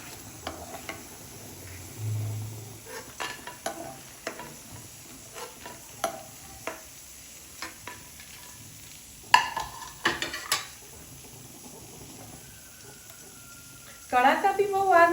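Wheat flour puris flavoured with peanut and black pepper fry in oil with a light steady sizzle, broken by clinks and scrapes of a utensil against the pan and a louder bubbling burst near the end.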